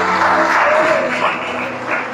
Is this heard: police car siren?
no